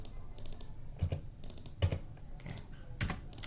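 Computer keyboard typing while working in Excel, quiet scattered clicks and key taps in short irregular bursts, close and soft, with no talking.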